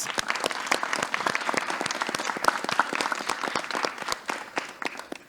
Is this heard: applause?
yes